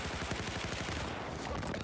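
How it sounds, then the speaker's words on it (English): Rapid gunfire from a Battlefield video game match, a dense, continuous burst of automatic shots filling the whole moment with steady, loud crackle and no talk. "Cannon's also just not landing his little shots on Cruz there."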